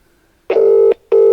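Telephone keypad tones sound as a number is dialed for a call: two loud, clean steady beeps, each about half a second long, separated by a brief pause.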